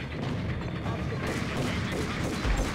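Dense, continuous bursts of gunfire and explosions rumble through a chaotic firefight in the video game Max Payne, loud and sustained throughout with little break.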